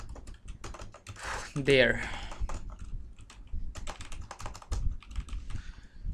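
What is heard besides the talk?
typing code on a computer keyboard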